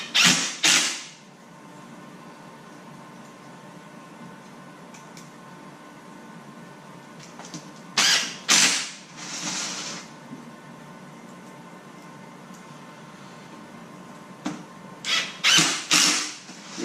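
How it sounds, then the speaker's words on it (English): Stainless steel screws driven into the top shroud of a stone crab trap by a power driver, several short bursts of whirring and creaking at intervals with quiet pauses between, close and loud. "now we can go and finish screwing in the top shroud."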